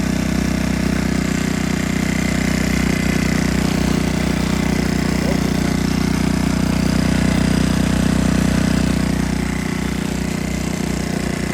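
A Talon GSX 150 R2 motorcycle engine idles close by, giving a steady, loud, even chugging rumble that holds throughout with no talk.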